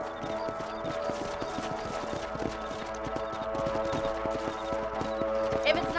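Horse hooves clip-clop in a steady, even trot in Red Dead Redemption, moderately close and continuous under faint background ambience.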